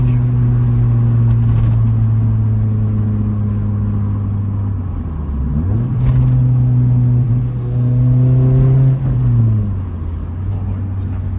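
A Honda CRX with a naturally aspirated 1.6 VTEC four-cylinder engine revs loudly up and down from inside the car, with a raspy, throaty drone that climbs and falls over a constant road rumble.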